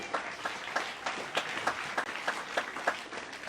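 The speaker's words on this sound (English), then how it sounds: "So let's give a round of applause for your staff." Audience applause after a government news briefing, a steady spread of clapping from a modest crowd with faint chatter underneath.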